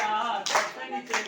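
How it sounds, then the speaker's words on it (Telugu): A church congregation claps along to a Telugu worship song, two sharp clusters of hand claps ringing out over sung voices and music. "యేసయ్యా దేవుడని చప్పట్లు కొట్టెదం"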